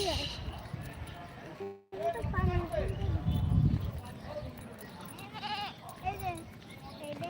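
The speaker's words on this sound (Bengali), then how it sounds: "কার ছাগল" A goat bleats a few wavering calls at an outdoor spot in Khulna, Bangladesh, mixed in with people talking nearby and general background bustle.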